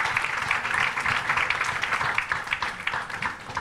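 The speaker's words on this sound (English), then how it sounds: "Mr. Abraham John, could I request a big round of applause for him, please?" Audience applause at a book launch for an architecture book, a dense, continuous patter of clapping from a crowd that holds steady for several seconds, fairly close and not loud.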